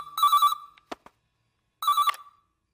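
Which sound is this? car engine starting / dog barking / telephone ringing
telephone ringing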